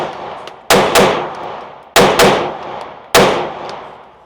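A ported CZ P10C pistol fires three sharp, loud shots at roughly one-second intervals, each crack followed by a short decaying ring, with no talking.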